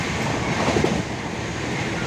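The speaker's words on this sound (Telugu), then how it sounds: "బండి చాలా స్పీడ్గా తీసుకెళ్తుంది" An electric Visakha Express train passes at high speed without halting, a steady broadband rush of wheels and rail with a slightly louder surge near the middle, heard from close by and continuous throughout.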